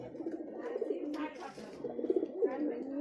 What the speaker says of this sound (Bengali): দেখুন ডাকছে কবুতর। এটা রাজশাহীর অরিজিনাল গিরিবাজ কবুতর।